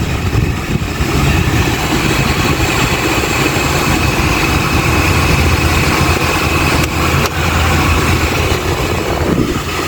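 Constant loud whirring hum of a Nissan Sentra N16 air conditioning blower motor running steadily, with airy rushing noise and a brief click partway through.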